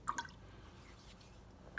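Water poured onto a knife-sharpening water stone, heard as a couple of small, close drips and splashes near the start, then a faint watery trickle, with one more drip at the very end.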